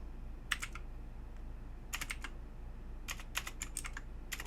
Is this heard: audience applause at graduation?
no